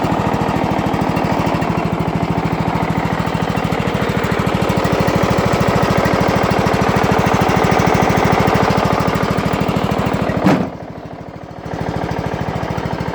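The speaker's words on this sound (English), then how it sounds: "That's your video of the cold start of the lawnmower." Small lawnmower engine running after a cold start in a garage, a loud, steady, fast-pulsing chug close up that suddenly dips and roughens near the end before settling back, no talking.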